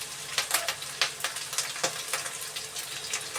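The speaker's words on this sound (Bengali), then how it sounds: "মশলাটাকে ভেজে নেবো হালকা করে।" Ginger and cumin paste fries in a pan with fried potatoes for a rui fish dish, giving a steady close sizzle with soft stirring scrapes and small pops repeating throughout.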